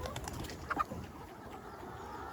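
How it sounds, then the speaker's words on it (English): Free-range farm chickens cluck softly and intermittently in an outdoor farmyard, with a brief, slightly louder burst of clucking near the start over faint background noise. "Happy birds."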